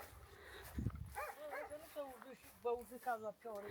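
A dog at a mountain sheepfold gives a string of close, high yelps and whines in short, uneven bursts, fairly quiet against the outdoor background.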